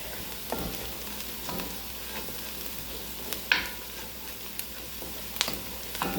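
Garlic frying in a pan for a creamy bacon chicken fettuccine, a steady soft sizzle with occasional sharper crackles and stirring clatters, close and alone without talk.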